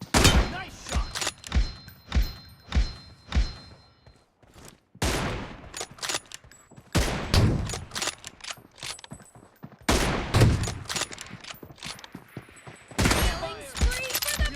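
Rapid bursts of automatic gunfire and single rifle shots crack out in a PUBG Mobile team deathmatch on the arena map, loud and close in repeated volleys, with brief game voice callouts mixed in.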